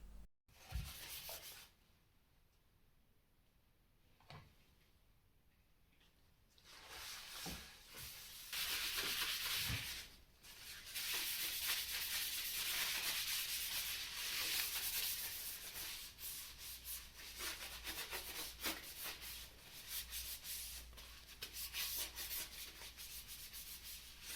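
Hard wax oil is rubbed by hand onto end grain wooden cutting boards, making a close, dry, hissing friction sound. It comes in long sustained strokes with brief pauses between them.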